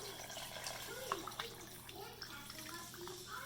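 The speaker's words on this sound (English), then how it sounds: "Add some more water." More tap water runs into a pot of Brazilian rice and beans in a home kitchen, a continuous close splashing pour with a few louder splashes, while people talk quietly nearby.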